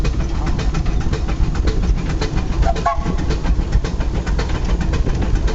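A steam locomotive on the Disneyland railroad in Anaheim, California rumbles steadily along with a rhythmic clatter of wheels and mechanical chuffing, loud and close throughout with no talking.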